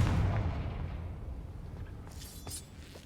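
A Confringo blasting spell cast in the video game Hogwarts Legacy: one heavy, booming explosion at the start that rumbles and slowly decays, followed by faint crackling debris.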